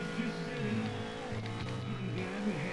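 A 250 dirt bike engine strains during a race with a radiator fault, a continuous droning motor whose pitch wavers up and down as it labours and revs, loud and close throughout.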